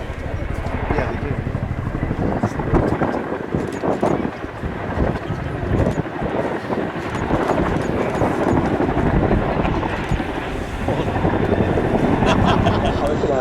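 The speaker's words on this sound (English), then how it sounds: "The Chinook is inextricably linked with the modern battlefield" A Chinook twin-rotor helicopter performs a nose-down quick stop during the RIAT 2023 airshow, its loud, steady rotor roar and wind buffeting filling the air continuously, with a commentator talking over the noise.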